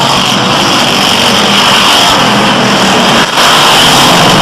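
Race cars in heavy traffic roar past in two big packs, a loud, continuous wall of engine noise with no pause throughout.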